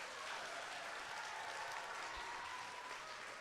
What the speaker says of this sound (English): Can we give our two students on the stage another round of applause